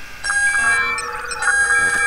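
Alarm set off during a firefight in No One Lives Forever, a steady electronic tone with several pitched layers and repeating pulses, moderately loud and continuous across the moment.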